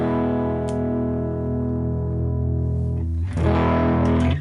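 An electric guitar played through the Line 6 Helix Ventoux amp model with a high-pass filter gives a loud, sustained chord that rings out. It is followed by a brighter, fresh strum near the end.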